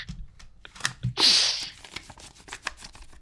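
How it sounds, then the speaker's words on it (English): Folded paper slips rustle in a hat, with one loud close rustling burst among quieter crinkles and scattered handling noises. "Can you hear the rustling?"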